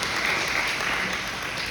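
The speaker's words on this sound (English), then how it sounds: "Round of applause for all the volunteers." A round of applause from an audience at a district candidates' debate, steady dense clapping throughout with no break.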